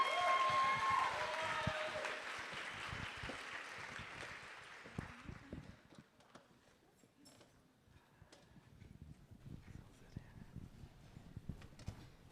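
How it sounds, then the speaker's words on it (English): Audience applause for panelists coming on stage at an interfaith leadership summit plenary, fairly loud at first, then thinning into scattered, fading claps over several seconds. "y'all can give them a round of applause"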